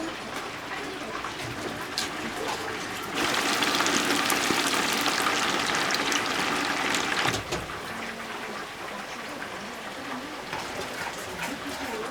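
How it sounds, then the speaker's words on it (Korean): Steady crackling sizzle of chicken frying in hot oil in a small chicken shop kitchen, growing louder in the middle, with voices and occasional clatter around it. "지금 튀기고 있어요"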